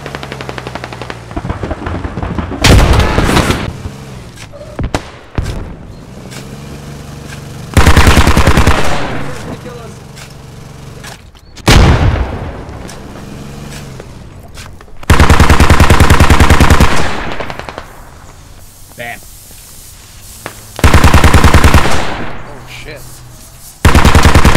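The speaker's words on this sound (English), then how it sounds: "Motherfucker is just shooting him with a BTR." Loud, sustained bursts of heavy automatic fire come from a BTR armored vehicle in the military shooter game Squad, roaring in repeated long volleys separated by brief lulls.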